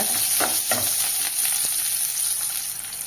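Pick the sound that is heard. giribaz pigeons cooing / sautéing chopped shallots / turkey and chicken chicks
sautéing chopped shallots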